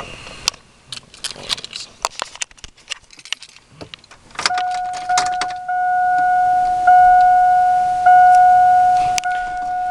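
A pickup truck with its glasspack mufflers removed starts up after some rattling and handling noises, then a loud steady idle with a droning tone rings out for the last five seconds.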